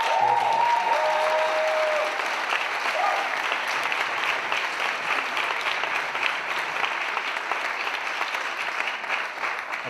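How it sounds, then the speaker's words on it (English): Festival volunteers receive a round of applause from the audience at a film festival closing ceremony, a dense, steady clapping that carries on throughout without a break, with a brief voice heard at the start. "If we could give a round of applause to every single volunteer."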